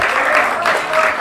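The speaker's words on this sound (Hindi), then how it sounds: "अंकुश के लिए जोरदार तालियां।" Loud applause from the audience at a Hindi-language theatre award ceremony, a brief burst of dense clapping with a voice faintly over it.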